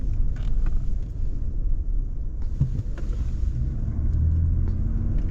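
A car drives along a road while people hunt for scrap, its steady low rumble of engine and road noise running continuously throughout at an even level, with no talking.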